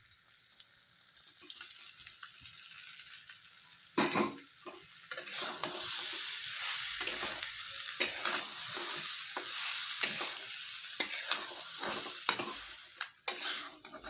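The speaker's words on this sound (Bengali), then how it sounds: "ডালের ভেতরে আমি যে সবজিগুলো ভেজে রেখেছিলাম তো ভাজা সবজিগুলো দিয়ে দেবো" Fried vegetables are stirred into dal in a pan for khichuri with rasping spatula scrapes and clacks over a steady background sizzle, close and moderately loud.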